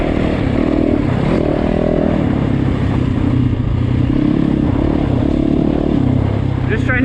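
Loud Yamaha YZ450FX dirt bike engine running on a mountain trail near Lake Arrowhead, a close, continuous throttle drone with rising and falling revs as the rider works the clutch, with a rider talking over it.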